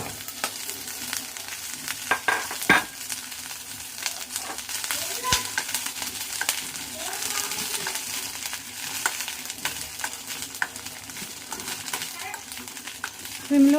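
Corn kernels fry with a steady sizzle in a pan on the stove while a spoon stirs them, giving scraping clinks and scattered pops over the continuous frying hiss.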